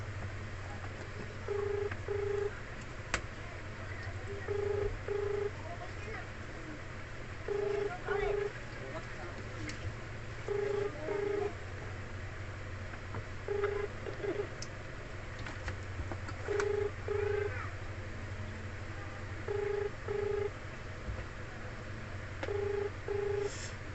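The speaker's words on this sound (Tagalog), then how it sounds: "Nag-ring siya pero sa cellphone ko hindi, sa number ko po hindi nag-ring." Phone call placed from a cellphone: a repeating two-pulse ringback tone sounds at regular intervals over a steady low hum, with a short burst of dialing tones and occasional faint voices in the background.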